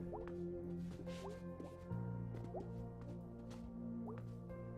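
Water runs in a shower inside the video game Night in the Woods, a close, steady patter of drips and squishy splashes that continues evenly throughout over a low background tone.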